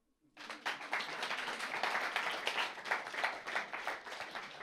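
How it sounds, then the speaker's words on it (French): A church congregation breaks into applause after a brief moment of quiet, with many hands clapping in a dense, sustained burst that holds steady to the end, moderately distant and without speech. "Est-ce qu'on peut les applaudir?"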